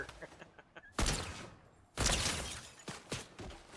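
Gunfire from the video game Fortnite comes in two loud sharp bursts with a few fainter shots between them, over a quiet game background.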